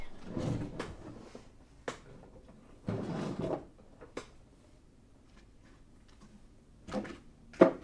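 A drawer is opened and rummaged through, with scattered soft knocks, slides and light clatter of small items at close range, and quiet stretches in between.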